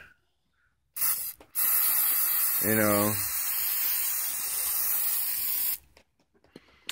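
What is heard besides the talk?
spraying engine degreaser on a part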